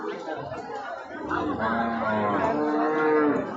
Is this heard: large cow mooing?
yes